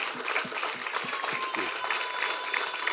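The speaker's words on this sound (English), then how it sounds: "I would like us to all stand and give him a loud of applause," A standing crowd of residents at a Goed Fortuin housing scheme event applauds to welcome the President, a moderately loud, dense clapping with a few distinct hand claps near the start.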